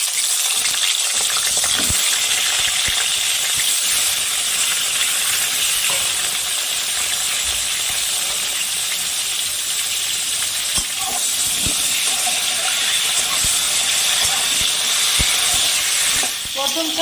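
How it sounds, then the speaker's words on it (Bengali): Pointed gourd (potol) frying in mustard oil in a wok, a steady broadband sizzle and hiss that runs the whole time with a few faint clinks and stirring knocks, loud and close with no talking. "ভেজে নেব পটলটা"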